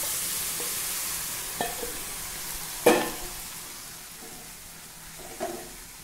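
Whole magur catfish frying in a hot pan and being stirred: a soft, steady sizzle with a few sharp scrapes and clinks of the spoon against the pan.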